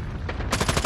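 Short burst of rapid automatic gunfire in a Call of Duty Mobile 10v10 match, loud and close, lasting under a second.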